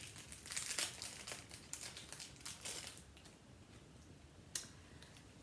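Cardboard advent calendar boxes being opened, with close crinkling and tapping of paper and card in short irregular bursts, one sharper rustle near the end.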